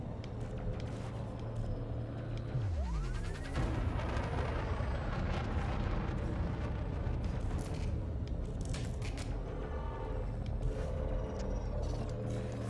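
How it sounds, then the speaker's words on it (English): Elite Dangerous frame shift drive charging: a loud, steady rumbling roar with a rising sweep partway through, then sustained booming rumble under crackling, continuous and close. "Frameshift drive charging."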